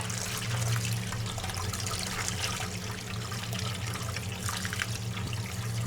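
Tap water runs steadily while something is washed by hand in a home kitchen, a constant close splashing rush with a low hum beneath it, no voices.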